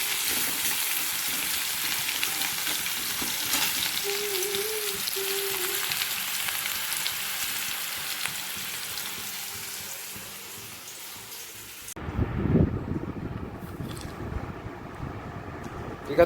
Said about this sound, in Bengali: আগে আলুগুলোকে ভেজে নিই, ঝিঙে দিলেই জল বেরিয়ে যাবে, তো ভাজা যাবে না।